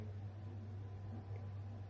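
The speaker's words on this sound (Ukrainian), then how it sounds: "Хоч і бульбашки пішли одразу, але чайник закипає не швидко." A steady low electric hum with a soft, even hiss of water heating in a powerful Aqua Glass electric kettle, continuous and close, no voices.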